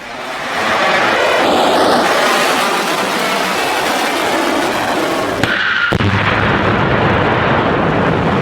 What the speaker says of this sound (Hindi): ईरान ने इजराइल पर मिसाइलों की एक खतरनाक खेप दाग दी है